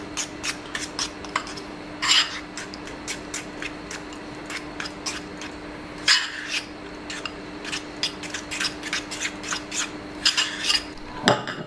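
Hot chocolate cake batter being mixed in a microwave-safe cup, with quick repeated scraping taps of a utensil against the container, close and brisk, with a few louder clatters interspersed.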